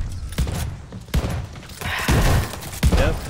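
Gunfire in the Call of Duty Vanguard video game: several heavy, booming shots spaced about a second apart, loud and close over a rumbling game backdrop.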